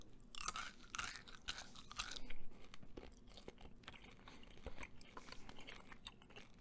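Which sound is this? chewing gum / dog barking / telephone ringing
chewing gum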